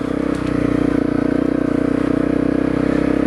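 A Honda CRF250L dual-sport motorcycle idling or rolling slowly on a wooded trail, its single-cylinder engine thrumming in a steady, close, loud pulse with faint mechanical clatter and no voices.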